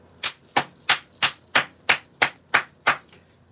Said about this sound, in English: Just clapping to clear the energy.